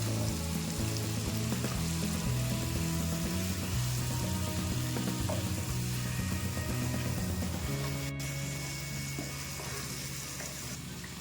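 Paneer frying in a pan gives a steady sizzle over a constant hum of kitchen noise, with a brief sharp click partway through.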